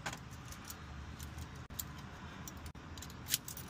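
A set of keys being pushed into a master-keyed lock and wiggled, giving faint close metallic jangles and small clicks in quick succession with a couple of sharp ticks, no talking.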